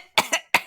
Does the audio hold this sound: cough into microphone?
yes